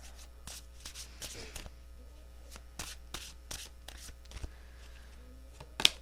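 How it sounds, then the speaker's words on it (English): A deck of tarot cards is shuffled by hand, giving repeated quick riffling bursts in an irregular rhythm, close and fairly quiet with small handling noises between them. "2 more shuffles."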